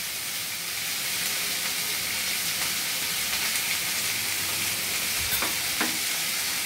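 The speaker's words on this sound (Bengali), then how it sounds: "এবার সব উপকরণগুলো খুব ভালোভাবে দিদি নেড়ে চেড়ে মিশিয়ে দিচ্ছে।" Bottle gourd peel with green chilli, salt and turmeric being stirred in a hot pan, a steady close sizzle with scraping stir strokes throughout and a couple of sharper clinks near the end.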